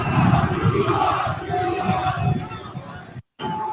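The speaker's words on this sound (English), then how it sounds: "The crowd seemed like they were pumped up there" A crowd of fans at a Miami Dolphins training camp practice roars and shouts continuously, loud and dense, with voices blending into a sustained outdoor cheer that cuts out briefly near the end.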